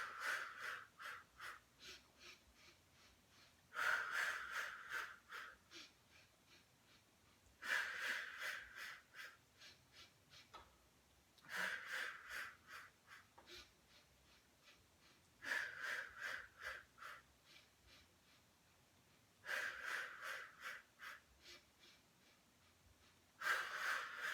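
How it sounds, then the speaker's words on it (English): Rhythmic, pulsed breathing during an advanced Pilates mat abdominal exercise, with bursts of quick breaths returning every few seconds over a faint background and no talking. "we're going to inhale for 5 pulses, exhale for 5."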